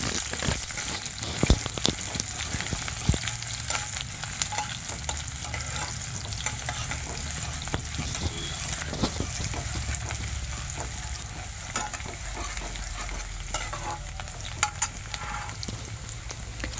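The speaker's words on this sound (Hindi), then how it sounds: "बनाने के लिए मैंने मस्टर्ड ऑयल डाली हूँ 3 चम्मच और साथ में एक प्याज को मैं भून लेती हूँ" A chopped onion frying in three spoons of mustard oil for a small fish curry: a continuous close sizzle with frequent scraping and stirring clinks of a spoon against the pan, steady throughout, no talk.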